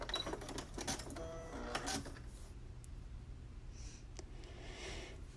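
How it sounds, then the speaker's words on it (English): A sewing machine zigzag stitches across a cloth face mask in a short close burst of rapid needle chatter lasting about two seconds, then the motor stops and only faint handling noises and quiet room sound follow. "we're going to zigzag stitch over this curved line"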